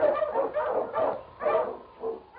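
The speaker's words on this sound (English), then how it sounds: "The Wonder Dog King, swiftest and strongest of Eskimo lead dogs, blazes the trail through storm and snow for Sergeant Preston" Eskimo lead dog in an old radio drama set in the snowy Yukon barks repeatedly, several loud close yelps and woofs in an uneven rhythm, alone without talk.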